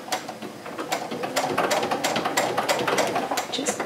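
Sewing machine stitching around a Christmas gift tote, a rapid mechanical rattle of the needle running in quick bursts with brief pauses, close and fairly loud.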